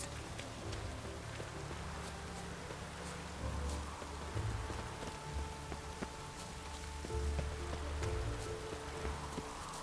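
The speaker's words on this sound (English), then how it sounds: "Looked like it would rain, and here it is." Steady rain pours down in the video game The Witcher 3, a dense continuous hiss of drops on surfaces that swells slightly in places, heard alone with no voices.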